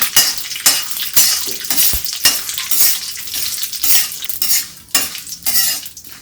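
Almonds being stirred and dry-roasted in a pan with mustard seeds and curry leaves, giving a loud sizzling hiss broken by repeated scraping strokes of a spoon against the metal, with no talking.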